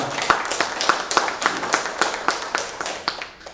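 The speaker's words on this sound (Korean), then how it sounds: "다시 한 번 더 이사장님께 뜨거운 박수 부탁드리겠습니다" Hands clap in a steady, fairly even rhythm at a commemorative ceremony, a sparse group applauding with distinct individual claps rather than a dense roar, fading toward the end.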